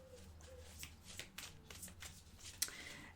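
Tarot cards shuffled by hand for a card reading, a quiet run of soft riffling and sliding strokes with a sharper snap near the end, close and low in level with no talk.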